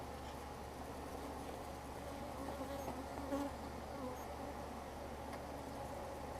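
Honey bees buzz steadily around an opened beehive during a honey harvest, a continuous low droning hum, fairly quiet and close, with no talking.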